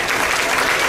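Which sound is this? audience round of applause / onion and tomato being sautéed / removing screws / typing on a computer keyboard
audience round of applause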